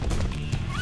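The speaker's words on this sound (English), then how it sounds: "Horse." A horse neighs in the video game Paladins, a short loud whinny with clattering game sounds underneath.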